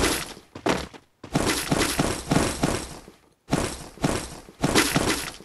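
Launcher explosions in a shooting video game, heard as several loud, harsh blasts in quick succession, split by short silent gaps.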